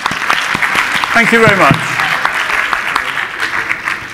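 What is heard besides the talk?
audience applause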